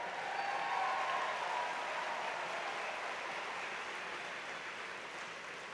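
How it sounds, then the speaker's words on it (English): Steady applause from a large audience at a college commencement, heard as a distant, even wash of clapping that holds at a constant level and fades slightly toward the end. "you can applaud, that's fine"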